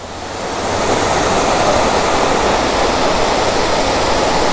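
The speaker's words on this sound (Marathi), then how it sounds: "हा समोर असा धबधबा आहे" A monsoon waterfall surrounded by misty green hills, pouring as a steady, dense roar of rushing water that swells in over the first second and then holds loud and constant, with no voices.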